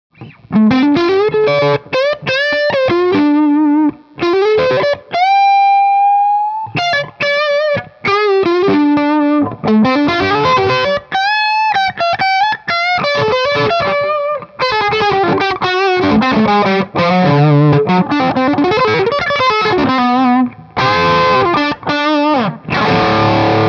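Distorted electric guitar plays continuously through an amplifier into a cabinet with two 12-inch Celestion Vintage 30 speakers, with sustained notes, quick runs and chords, loud and full, with no voices.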